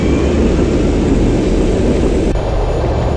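A jet fighter rolls down the runway on takeoff in the flight sim Fighters Anthology, its engine a steady, loud broadband roar that holds throughout with a slight drop near the end.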